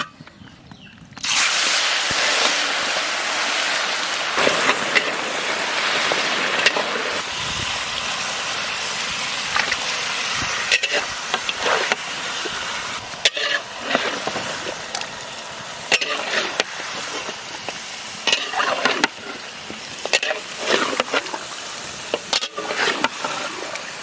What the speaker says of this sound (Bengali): তেল গরম হয়ে গেছে, দিয়ে দেবো মাংস।